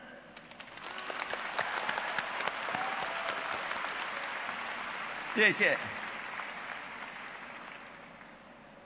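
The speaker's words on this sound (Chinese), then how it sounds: "我们一起鼓掌，谢谢每一位为汕头大学新体育馆热烈赶工的同事。" Sustained applause from a large audience at a Shantou University graduation ceremony in a new gymnasium, steady clapping filling the hall with a brief spoken word over it and a short louder burst near the end.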